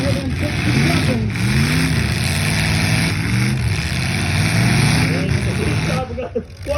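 A demolition derby car's engine cranked and revved at a 2021 heat in North Battleford, a loud, rough, continuous motor surging up and down with busy crowd and arena noise, and a commentator talking.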